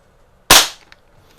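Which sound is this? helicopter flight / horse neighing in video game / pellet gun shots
pellet gun shots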